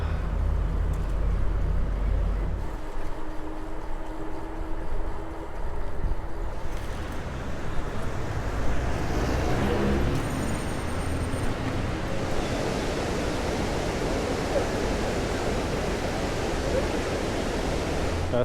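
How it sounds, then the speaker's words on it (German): Waterfall along a cycling route between Como and Menaggio in Italy, a steady broadband rush of falling water heard fairly close and continuous throughout, with no talking. "Das war ein Wasserfall"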